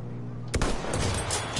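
Gunfire in the shooter game Battlefield 1, with a sniper rifle in play: a sudden loud blast followed by a dense, sustained crackle of battle noise.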